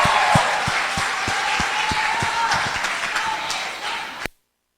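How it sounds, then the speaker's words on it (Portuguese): A church congregation claps along in a steady, even rhythm, distinct claps repeating over a broad crowd wash, before the sound cuts off abruptly near the end. "Um aplauso a Jesus"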